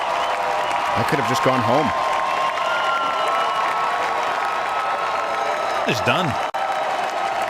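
Sustained audience applause and cheering for a guest at a comedy show, a steady dense crowd roar filling the whole stretch while someone speaks briefly over it near the start and again near the end.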